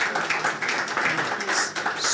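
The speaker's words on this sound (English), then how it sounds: "That deserves a bigger round of applause." An audience at the official launch and media parley of a children's investment fund applauds in a steady, continuous wash of clapping that fills the whole stretch at moderate loudness.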